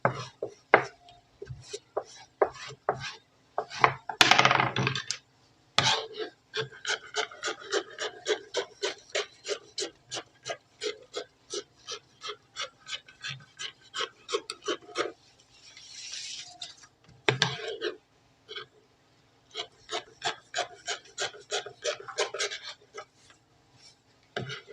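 Scissors snip through fabric while cutting pieces for a kaftan dress pocket, giving a long series of crisp, rhythmic cuts with short pauses and a few louder handling knocks.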